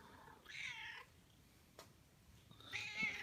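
A cat named Daisy in a shop gives two separate meows, a quiet one early and another near the end, in an otherwise quiet room.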